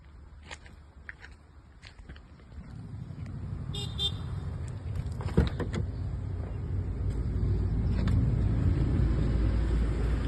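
Inside a car driving on a highway by road from Delhi to Jagtial, a low steady road rumble builds and grows louder, with a few faint clicks and knocks early on; no clear voices.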